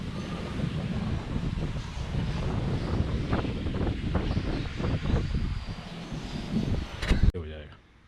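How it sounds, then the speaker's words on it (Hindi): Strong wind gusting through a neem tree in Karachi, a loud continuous roar with buffeting on the microphone, while someone talks over it. "इसके पत्ते वगैरह भी यहाँ पर गिरना शुरू हो गए क्योंकि हवा इतना तेज़ है"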